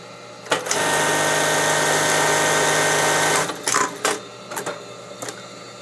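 A sewing machine stitches a buttonhole on a baseball jersey in one loud, fast, continuous run of about three seconds, followed by a few short clicks and clunks as it stops.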